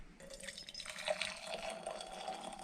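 Salt solution poured into jars fitted with string and pencils, a soft close trickle and splash of liquid running steadily for a couple of seconds, faint and alone.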